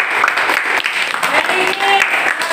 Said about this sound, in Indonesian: tepuk tangan untuk kelompok Twitter